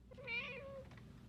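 A single short cat meow, fairly faint, rising and falling over a low background hum.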